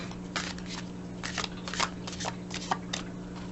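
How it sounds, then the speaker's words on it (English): Tarot cards are shuffled repeatedly up close, with soft riffling bursts over a faint steady hum. "we're just going to keep shuffling until the cards tell me that they are ready to be read"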